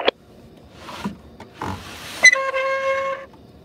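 A harsh, brief screech cuts in after some scattered clunks, followed by a sustained high-pitched tonal squeal that stops abruptly.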